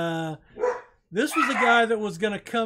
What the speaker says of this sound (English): And I apologize for the dogs. They're barking at something.